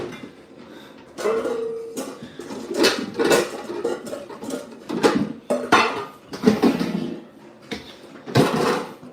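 Bowls clatter and clank in a kitchen as a large one is picked out for crab cakes, a run of loud, irregular knocks and scrapes of dishware nearby.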